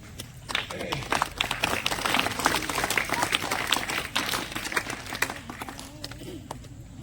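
An audience at a religious discourse claps together in a dense, steady patter of many hands, loud and sustained throughout, with a voice speaking faintly beneath it.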